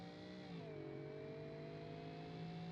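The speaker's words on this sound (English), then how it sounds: "Dude, this car actually drives pretty well." A Peugeot 3008 crossover on the move, its engine note whirring steadily with a tone that dips once early on as the gears shift, then holds an even, moderately quiet drive.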